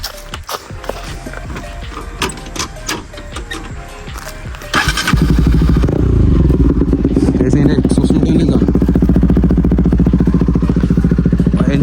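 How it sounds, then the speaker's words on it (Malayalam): A modified BS3 Bajaj Pulsar NS200 motorcycle: loud clattering and handling noises first, then the engine starts and its aftermarket exhaust runs at a loud, steady, throbbing idle close by for about seven seconds. "ഇനി എൻ്റെ എക്സോസ്റ്റിനോട്ട് ഞാൻ കേൾപ്പിച്ച് തരാം. വണ്ടി സ്റ്റാർട്ടാക്കി കാണിച്ചു തരാം."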